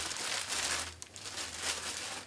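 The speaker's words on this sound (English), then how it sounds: "there's an oversized plastic bag held close with some sellotape." An oversized plastic bag wrapped around a PSB Passif 50 standmount speaker crinkles and rustles close up, a continuous soft crackling with a few sharper crinkles and no talking.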